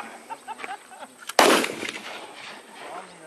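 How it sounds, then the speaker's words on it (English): A single sharp, loud gunshot cracks out at an outdoor shooting range and echoes briefly, with faint voices in the background before and after. "Keep firing, Ram."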